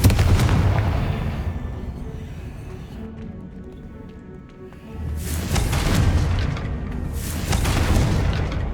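The Confringo spell blasts in Hogwarts Legacy, deep booming explosions that land at the start and again around the middle and end, with rumbling tails in between, loud and close.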